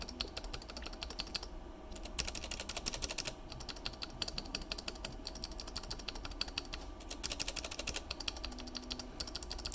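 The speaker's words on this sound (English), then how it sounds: "this is the sound difference from a" A 3D printed keyboard stabilizer being tapped in a typing sound test, giving dense, steady clacking keystrokes close up for the whole stretch, alone with no talk.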